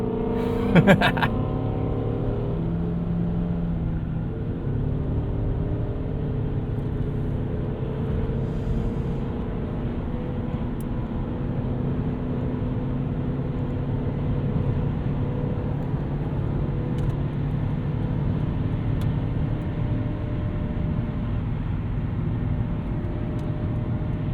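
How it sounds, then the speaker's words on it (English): A 1998 Lexus GS 400 V8 engine drones steadily as the car picks up speed, a muffled, constant low roar with no break. "love the ease at which this car gets up to speed"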